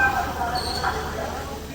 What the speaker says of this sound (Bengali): এই ট্রেনটি এখন আমাদের কলকাতা স্টেশনে প্রবেশ করলো প্ল্যাটফর্ম নাম্বার 1-এ